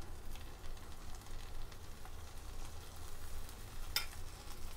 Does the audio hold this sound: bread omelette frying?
yes